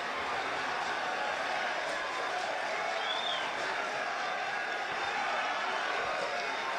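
Visiting supporters at a St Patrick's Athletic versus Sligo Rovers football match applauding a goal, a steady distant wash of clapping and crowd noise held at an even level throughout, with faint commentary beneath.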